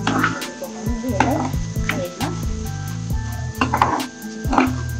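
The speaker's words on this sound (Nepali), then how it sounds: "यसरी तेलमा तारिनुपर्छ।" Garlic and green chillies fry in hot oil with a bright, crackling sizzle close by, overlaid with repeated clinks and taps of a utensil against the pan, under faint background voices.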